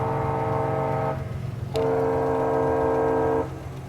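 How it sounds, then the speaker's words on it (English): Train horn blowing at a railroad crossing, two long loud chord blasts separated by a short gap, with the second held longer and sounding close by. "all of a sudden it started blowing the horn and it sounded like the train was right there"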